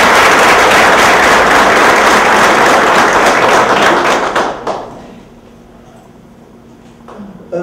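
Loud, dense audience applause at a spiritist center lecture, a full burst of many clapping hands that fades out over a few seconds into a quiet room with a faint low hum.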